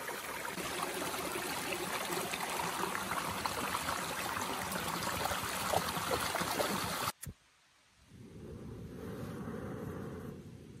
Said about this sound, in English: Beautiful little creek. It's right below my campsite.